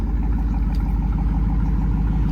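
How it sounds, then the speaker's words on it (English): A 1995 Chevrolet Camaro Z28 V8 idles through dual exhausts in a steady, loud, close low rumble with an even pulsing beat, no talking. "Hear that rumble from the V8 and those really, really nice dual exhausts."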